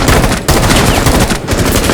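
Rapid automatic gunfire in the video game Rainbow Six Siege, a dense, very loud stream of shots with two brief breaks, close and dominating.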